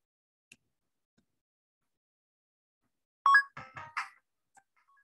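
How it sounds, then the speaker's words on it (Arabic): Coin pickup effect in a Unity 2D video game: a short run of bright, tonal chime blips in quick succession, clear and close against otherwise near silence. "الولد دلوقتي ما بيجي ياخد كوين بيظهر الصوت بتاع الكوين."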